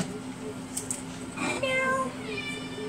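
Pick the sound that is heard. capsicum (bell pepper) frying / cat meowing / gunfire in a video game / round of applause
cat meowing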